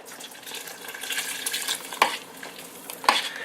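Cornstarch and water being stirred into a pot of chicken noodle soup, soft liquid swishing and bubbling with two sharp clinks of a utensil against the pot, fairly quiet and close.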